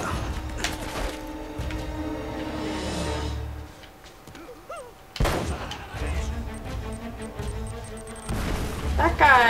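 Grenade blasts in the game Uncharted: Drake's Fortune go off in heavy booming bursts, one before a brief lull and more after it, amid crashing impacts, music and spoken voices.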